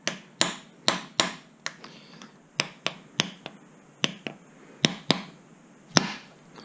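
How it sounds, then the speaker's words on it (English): Sharp metallic taps strike a Kawasaki H2 supercharger gear held in a vise, about a dozen crisp, close hits at uneven intervals with short decays, and nothing else heard. "Let me put it in our vise here and just kind of hold it, and we'll give it a tap."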